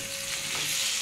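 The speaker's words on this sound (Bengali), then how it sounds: "একটুখানি সামান্য জল দিয়ে বন্ধুরা এটা কষিয়ে নেব সব শুকনো মশলা।" Dry ground spices (cumin, chilli powder, turmeric, salt) sautéed in a pan with a splash of water for a Bengali bata fish curry, a steady close, even sizzle with soft stirring throughout, no voices.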